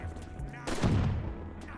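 The Pack-a-Punched Mustang and Sally pistols fire in Call of Duty: Black Ops 3 Zombies, a sudden loud burst cutting through the noisy game audio with a voice talking over it.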